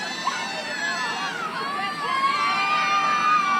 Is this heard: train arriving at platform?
no